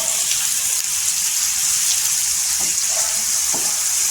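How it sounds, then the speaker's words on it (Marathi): Onion sautéing in oil in a pan, a steady close sizzle with faint occasional stirring sounds, no speech. "1 मिनिटासाठी आपण आहे ना छान असा परतून घ्यायचा तेलावर कांदा"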